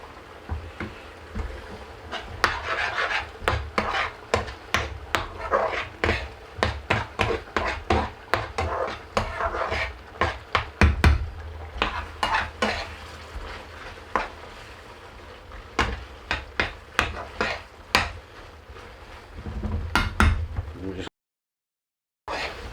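Base gravy is ladled into a pan for a chicken and mushroom korma, with repeated sharp metal-on-pan clanks and scrapes over a constant sizzling hiss, steady for over twenty seconds.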